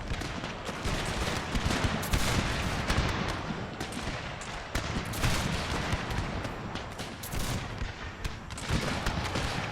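Musket volley fire in a Thirty Years' War Total War battle, a dense continuous crackle of many overlapping gunshots lasting the whole stretch, loud and unbroken, with no talking.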